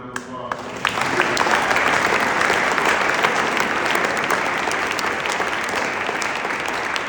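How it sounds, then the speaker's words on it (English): Audience applause at a Washington, DC fly-in briefing breaks out after a short quiet opening and holds as steady, dense clapping through the rest of the stretch, loud and close. "You can give a round of applause."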